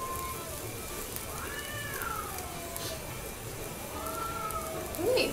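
Neighbouring cats fight outdoors with drawn-out, wavering caterwauls, two long yowls rising and falling at moderate distance over a steady background hiss, ending in a sharper cry.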